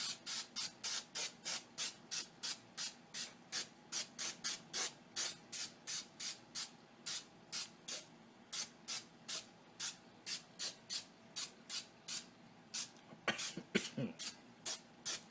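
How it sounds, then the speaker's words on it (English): A baking spray can hisses in steady short bursts over a pan, dozens of rapid evenly spaced spritzes, close and bright, with a brief rustle near the end. "I got some regular Pam baking spray."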